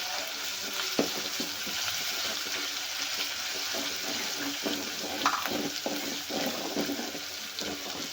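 Ginger garlic paste sizzles and fries in a pan for mutton curry, a steady loud crackle with scraping stirs now and then.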